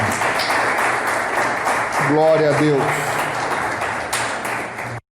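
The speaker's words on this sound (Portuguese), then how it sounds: "Aplauda ao Senhor Jesus bem forte." Church congregation applauding, a continuous crowd clapping that fills the room while a voice calls out over it midway, and the clapping carries on until it cuts off abruptly.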